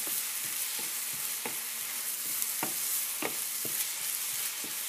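Vegetables brown in a frying pan with a steady close sizzle, punctuated by regular clicks and scrapes of stirring roughly every half second.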